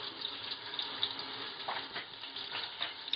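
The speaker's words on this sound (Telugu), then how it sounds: "బ్రౌన్ కలర్ వచ్చేంత వరకు ఆనియన్స్ వేయించుకోవాలి." Sliced onions frying in a pan for chicken dum biryani gravy, a steady soft hiss and sizzle with occasional faint stirring scrapes, close but quiet.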